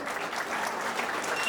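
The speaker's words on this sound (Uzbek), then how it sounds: "Qarsak bo'lsin." An audience at a school olympiad event claps together, a dense, even burst of applause that holds steady, with a faint voice underneath.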